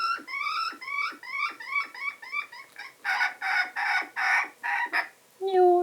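Broody hens clucking close by in a coop: a quick series of rhythmic clucks, then louder harsh repeated squawks, ending with a short higher call.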